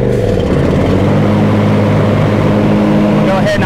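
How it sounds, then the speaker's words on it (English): The V-twin engine of a John Deere Z375R riding mower with a 25HP engine and 54-inch deck runs loud and steady at close range as the blades engage. "We'll go ahead and engage our blades"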